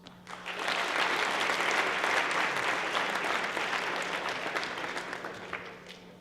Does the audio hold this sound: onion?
no